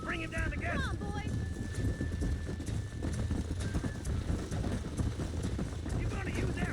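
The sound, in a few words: horses galloping in video game Red Dead Redemption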